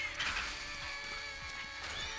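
A horse in the Western video game Far Far West gives a faint whinny. Soft, rhythmic hoof thuds and game ambience sit beneath it, all at low volume.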